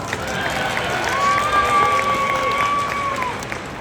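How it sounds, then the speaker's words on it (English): Light applause and crowd noise rise at a sea lion show in a mall, moderately loud and steady, while a high whistle tone cuts through the middle. "Everybody please give a round of applause"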